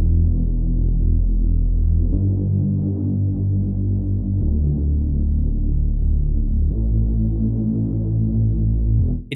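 Smooth, low Moog-style synth bass built in Logic Pro X with stock plugins, a sustained throbbing line that shifts pitch every couple of seconds, loud and alone without voices.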